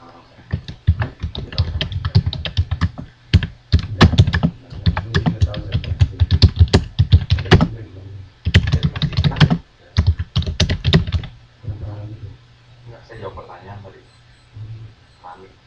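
Rapid bursts of typing on a computer keyboard, close and fairly loud, coming in clustered runs with short pauses, then trailing off into softer, sparser taps toward the end.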